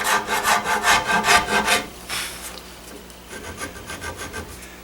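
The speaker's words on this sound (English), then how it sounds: "Not the cheapest rasp, but they're very well made for doing smoothing quickly." A maker's rasp smooths wood in rapid, rhythmic rasping strokes, loud and close for the first two seconds, then a pause and a softer run of lighter strokes; no one speaks.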